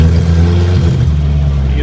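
A 1980 Chevy Luv pickup engine runs loud and close, with a steady low drone and strong humming tones throughout and no clear rise or fall in pitch.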